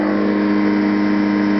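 A light aircraft engine holds a loud, steady drone at maximum RPM during a run-up, close and continuous for a short stretch with no voices.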